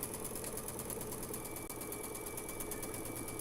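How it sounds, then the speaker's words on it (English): Sewing machine stitching chain-pieced quilt blocks for flower basket quilt blocks, a steady, fast rhythmic whirring hum that runs without pause at moderate loudness. "So I've just turned them around, and I'm stitching away as we go here."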